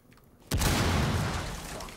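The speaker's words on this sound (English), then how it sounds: "they're putting a breach charge on it" A breach charge detonating in Rainbow 6 Siege: one sudden loud boom after a quiet moment, followed by a long rumbling decay, no talk over it.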